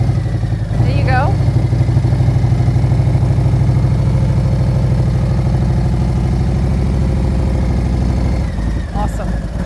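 A motorcycle engine runs loud and close at a steady constant throttle during slow clutch-control practice, a continuous even drone with a faint slip in pitch near the end.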